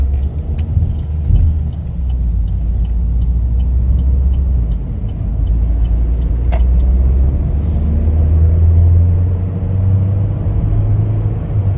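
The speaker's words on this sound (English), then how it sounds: "Let's take it for a little test drive." Interior road noise of a 2022 Chevrolet Equinox LS on a test drive: a steady low rumble of engine and tires on Michelin rubber, smooth and continuous, with faint clicks.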